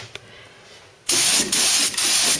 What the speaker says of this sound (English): Okay, gun on, paint on.